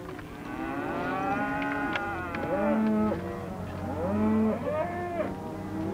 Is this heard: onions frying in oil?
no